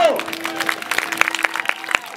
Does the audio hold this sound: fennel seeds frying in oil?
no